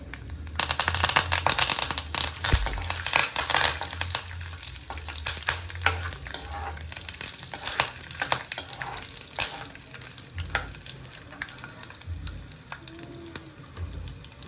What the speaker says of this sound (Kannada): ಇವಾಗ ಇದಕ್ಕೆ ಕರಿಬೇವು ಸೊಪ್ಪು ಹಾಕೊಳತೀನಿ.